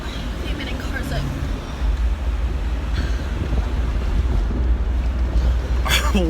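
Loud, steady wind buffeting through rolled-down car windows while driving fast, a constant low rumble with gusts and brief voices talking over it.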